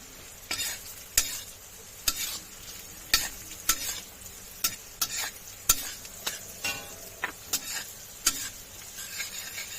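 Sugar frying in a pan for fried rice, stirred with a utensil that knocks and scrapes the pan in sharp, fairly regular clicks over a low steady sizzle.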